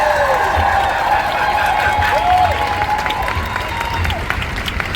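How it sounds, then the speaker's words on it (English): A crowd applauding at a Palestine rally in Boston, a steady wash of clapping and cheering outdoors, with scattered voices and whistles rising over it. "Please give a big round of applause for Leah from the Palestinian Youth Movement."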